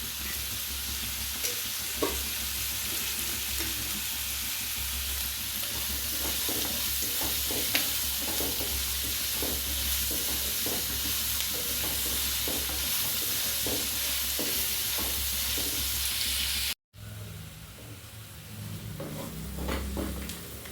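Salted onions sauté in a pan for a long stretch, a continuous close sizzle broken by regular scraping strokes of a spoon. A brief cut near the end drops the sound for a moment before the frying resumes.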